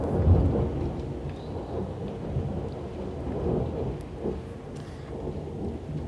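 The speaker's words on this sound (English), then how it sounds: "Kindly ignore the thunder sound." Heavy rain pours steadily throughout, with deep rolling thunder rumbling low and continuous underneath, loudest near the start and never quite fading.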